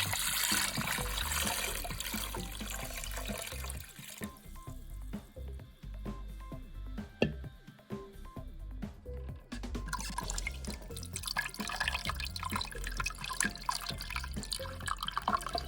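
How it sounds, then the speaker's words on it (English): Water pours into a pot set up for steaming pinnekjøtt over a layer of birch branches, a splashing trickle with drips that briefly pauses mid-way and then resumes more fully, no talk. "I'm going to now fill this up with water just until the underside of the highest branch line"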